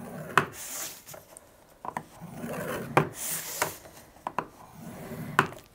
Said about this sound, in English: I'm gonna take out my scoring tool and bring that down, and I'm gonna score on every 4 centimeter line